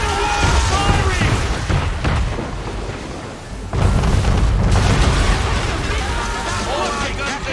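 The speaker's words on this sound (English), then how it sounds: "Man of war firing!" Cannon fire from a man-of-war warship in Assassin's Creed III, heavy booming blasts and rumbling bursts that fill the scene loudly, with voices shouting over the barrage throughout.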